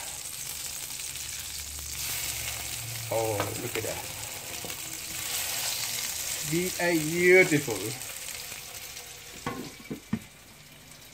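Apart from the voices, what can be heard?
meatballs sizzling in a frying pan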